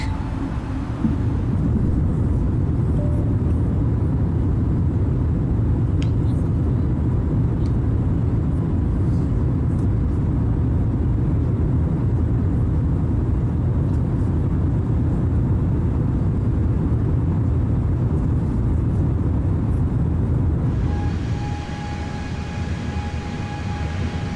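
Steady, loud jet engine roar from an airliner in Microsoft Flight Simulator 2020 during the climb after takeoff on a night flight to Las Vegas, a continuous broadband rumble that thins out near the end as the throttle comes back.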